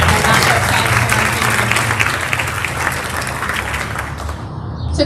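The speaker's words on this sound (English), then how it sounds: "And a round of applause for our" A school audience claps loudly for award winners at a 6th/7th grade end-of-year ceremony, dense continuous applause that thins out and stops just before the end.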